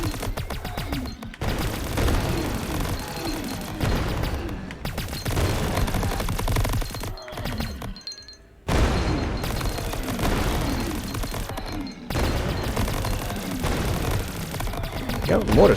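Mortar firing in the video game Greedland, dense rapid explosive bursts and gunfire in a sustained barrage with brief gaps, loud and close, under occasional talk.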